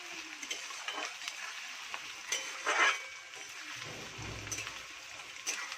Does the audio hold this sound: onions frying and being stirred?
yes